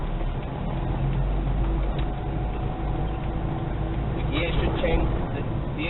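Toyota Hilux 3.0L KZTE 4x4 turbodiesel driving on the road, a steady low engine and road drone with subtle shifts as gears change, heard from inside the cab while someone talks over it.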